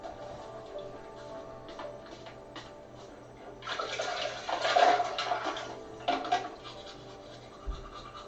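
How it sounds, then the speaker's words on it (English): A boy washes his face with ice cold water his dad prepared, in a village in the coldest place on earth, with soft rubbing and bursts of splashing that swell in the middle and fade toward the end. "He washed his face and brushed his teeth."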